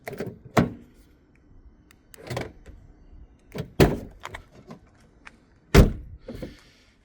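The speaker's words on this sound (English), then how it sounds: "door's locked." Car door on a BMW E46 locking, several sharp mechanical thunks and clicks of the central locking spaced a second or two apart, close and loud with quiet between.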